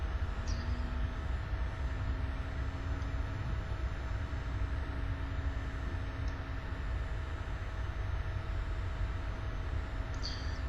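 Airliner taxiing at Salt Lake City in the X-Plane 11 flight simulator, a steady low engine rumble with a constant whine held evenly throughout, with no talk.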